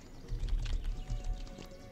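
A horse's hooves thud in an uneven running rhythm close by on a ranch as it chases another horse toward a pen, with faint background noise.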